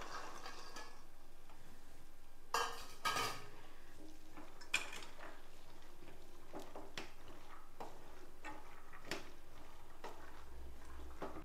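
Green peas added to a pan and stirred for a masala, soft clinks and scrapes of a spoon against the pan with a couple of sharper knocks, quiet and close.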